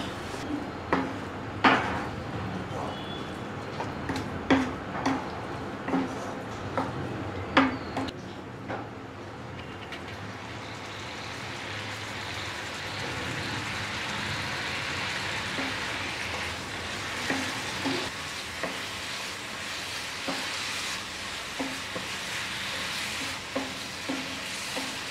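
Carrot halwa with milk and sugar being stirred in a pan, soft wet scraping and sizzling, with a few sharper knocks of the spoon at first, then a steady bubbling hiss.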